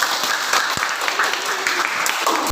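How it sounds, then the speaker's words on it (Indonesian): A classroom group claps steadily for a presenting student team during a teaching practice session, a dense continuous round of applause, close and fairly loud. "Kita beri aplaus untuk kelompok 3."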